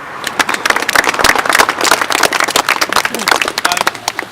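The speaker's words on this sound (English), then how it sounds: "so a round of applause for them." A crowd at a park entrance opening ceremony claps steadily and loudly, dense applause sustained throughout without a break.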